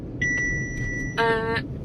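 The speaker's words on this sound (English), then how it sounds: "I don't know why that's beeping" A sustained electronic tone followed by a brighter, harmonically rich beep, both close and clear over low background hum.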